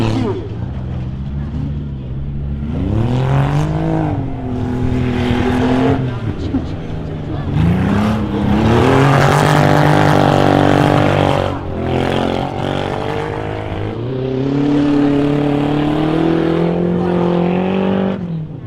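A small Suzuki Samurai or Geo 4x4 races on an ice track, its engine revving up and down repeatedly through loud rising and falling pitches while an announcer talks over it.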